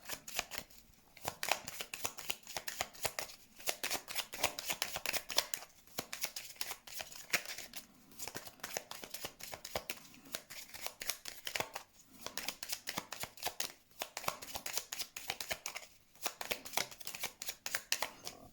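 Tarot cards being shuffled for a reading: repeated crisp, papery riffles in steady bursts with short pauses between, close and moderately quiet, with no talking.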